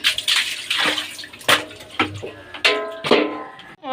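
A wooden clothes beater (mongri) is rinsed with water at home after laundry, giving repeated splashing and pouring bursts with sharp knocks of wood, close and fairly loud, with no speech.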